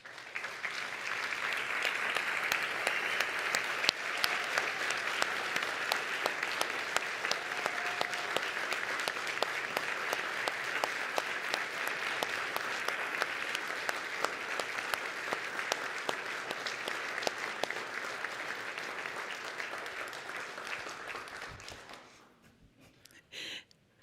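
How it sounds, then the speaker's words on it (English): An audience at a State of the City address gives a long, steady round of applause, many hands clapping in a dense, even roar for over twenty seconds before it tapers off and stops. "so we can give them a round of applause"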